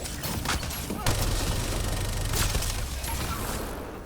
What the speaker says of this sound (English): I can actually, you know, try to shoot my Crusader because it can shoot across very long distances.